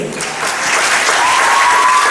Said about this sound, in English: I must also invite you to applaud our cadets and our hard-working OC, Lieutenant Gibson.